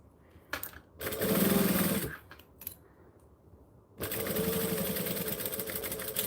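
Sewing machine stitching a small fabric bag, with two bursts of steady motor whirring and needle chatter: one about a second long, then a pause with light handling sounds, then a longer run of stitching.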